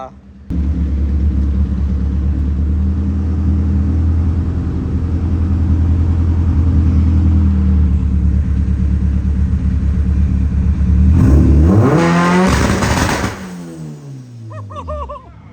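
Turbocharged 1.8 Chevrolet Cruze engine held on a two-step launch limiter, a loud steady rumbling drone that swells near the end into rising revs and sharp crackles before falling away.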